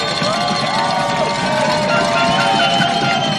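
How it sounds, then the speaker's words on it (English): Liberty home crowd rising to cheer and stomp their feet for the defense at a high school football game, a steady broad roar of many voices with whistles and tonal noise throughout. "the Liberty faithful rise, stomp their feet, cheer on their defense"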